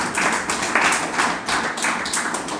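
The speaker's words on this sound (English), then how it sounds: "Clapping." Steady group applause from an audience at a devotional lecture, a dense continuous patter of many hands clapping at even loudness throughout, without speech.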